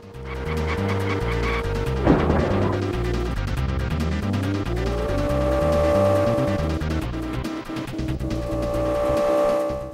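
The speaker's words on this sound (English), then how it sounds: "It was actually a really violent crash, all things considered." Engine whine and a crash in the SNES Michael Andretti's Indy Car Challenge racing game, with a short noisy impact burst amid steady synthesized motor drone and chiptune music, loud throughout.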